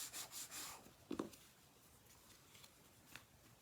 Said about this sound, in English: Give it a good burnish, spread that glue around so that it gets into all of those nooks and crannies.